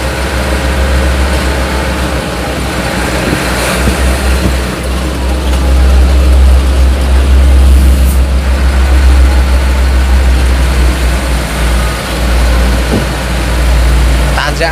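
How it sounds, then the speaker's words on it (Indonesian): A Ragasa 135 PS turbo intercooler car engine runs loud and close, a heavy low rumble rising and easing in slow surges with a broad hiss over the top. "Turbone wis bengok saiki."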